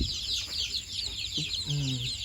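Newly hatched chicks from an egg incubator make a few short, close peeping cheeps over a steady hiss of background noise.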